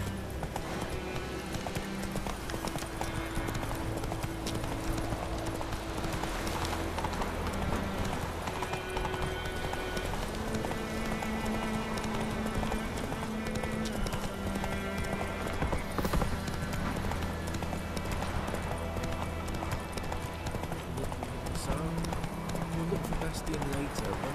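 A horse gallops in The Witcher 3 video game, with steady, rhythmic hoof clip-clops over background music while someone speaks briefly.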